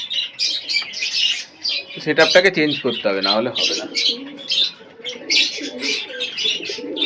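Pigeons coo and chirp during night feeding in a loft, soft repeated calls scattered throughout while someone talks nearby.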